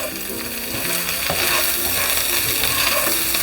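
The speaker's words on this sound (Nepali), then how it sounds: "मसला सबै राम्रोसँग भुटिसक्यो" Chicken gizzard and liver sizzle loudly with cumin, coriander and chili powder in a pan, a dense crackling fry with scraping stirs and a short clatter from a utensil.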